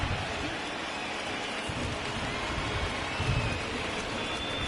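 Steady rain pouring over a baseball stadium during a game, a dense continuous hiss of rainfall at even loudness with faint low rumbles beneath.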